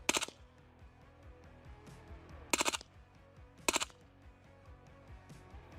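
Rapid bursts of rifle fire in Hollow Knight Silksong: three short, loud rattling volleys spaced a second or so apart, each a tight cluster of shots over a low, quiet background.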